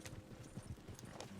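Horse hooves clip-clop in a steady, rapid rhythm across the whole stretch in Red Dead Redemption 2, moderately close and unaccompanied by talk.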